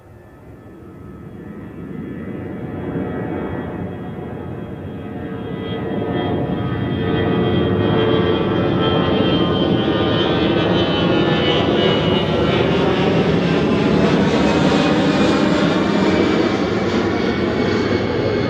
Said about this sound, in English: Lufthansa A320 in Star Alliance livery.